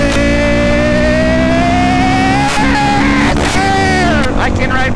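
A loud, steady engine drone from a bike being ridden on a road, its pitch rising and falling as the throttle changes, with wind rush throughout and brief voice sounds over it.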